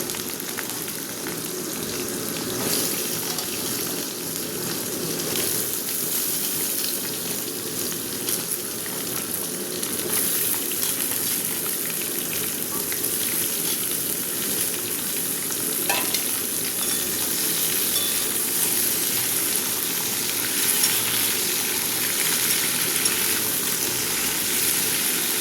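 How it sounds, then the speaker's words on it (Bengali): Cubed potatoes and green beans dropped into hot oil in a pan, giving a loud, continuous sizzle and hiss close up that stays steady throughout, with faint stirring scrapes and no voices. "তেল গরম হয়ে গেছে, এবার আমি সবজিগুলো দিয়ে,"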